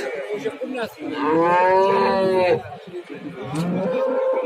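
A cow at an outdoor livestock bazaar lets out a long, loud, close moo lasting over a second, with crowd chatter and someone talking around it.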